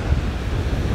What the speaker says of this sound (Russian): Но сегодня ветер такой стабильный,